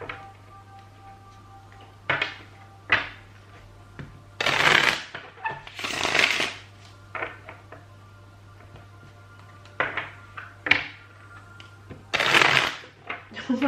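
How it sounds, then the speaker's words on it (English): Tarot cards are shuffled by hand in several uneven bursts of crisp, papery riffling and flicking, close up, with short pauses between handfuls. "If I can shuffle the cards."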